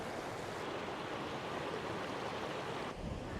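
Floodwater overflowing and rushing across flooded ground, a broad steady roar like surf, constant and fairly close with some wind noise on the microphone, dropping slightly near the end.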